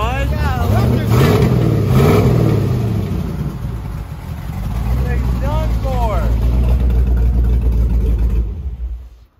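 A failing car engine with a suspected bad rod or lifter runs and revs loudly up close, its uneven mechanical clatter under the drone while someone speaks over it, before the engine cuts off near the end.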